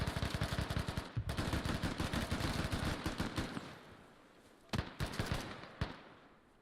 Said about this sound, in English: Nice shooting from Rambo,